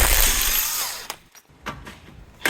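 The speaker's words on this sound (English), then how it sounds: "So we'll start by removing the drive shaft nut," A power tool spinning off the drive shaft nut on an Alfa Romeo, a loud close whir that cuts out, then a few short rattling bursts and a final burst.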